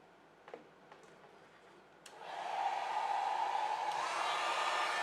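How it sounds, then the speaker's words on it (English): A hair dryer blows on alcohol inks for a painted rose. A few faint ticks come first, then the dryer switches on and holds a loud, steady, close whooshing roar with a humming undertone to the end. "depending on the size, I use the second speed of my dryer as well"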